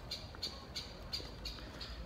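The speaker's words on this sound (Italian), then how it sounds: "scusate gli uccellini" Small birds chirping in a quiet room, a string of regular short high squawks repeating about three times a second, faint and somewhat distant over a low background hum.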